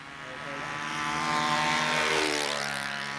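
Model B-25 airplanes fly with buzzing propellers, a sustained droning whine that swells as a plane passes nearer and then eases off slightly, with no voices over it.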